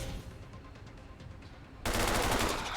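SMG gunfire from the XCOM 2 strategy game comes through as a rapid rattling burst over low game ambience, followed by a sudden loud wash of noisy impact sound.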